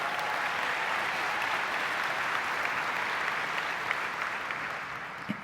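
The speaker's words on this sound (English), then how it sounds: "Can we give her a round of applause?" Sustained applause from a large audience at an annual meeting's opening keynote and awards program, dense and steady throughout before tapering slightly at the end.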